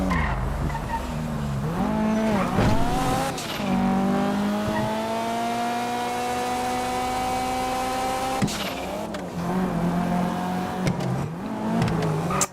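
In GTA Online a car's engine climbs and drops through gear changes while tires squeal in repeated skids, the loudest bursts near the start and around eight seconds, close and continuous without speech.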